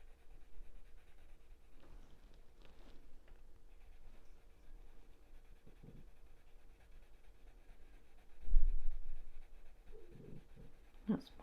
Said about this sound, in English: That's my dog making funny noises.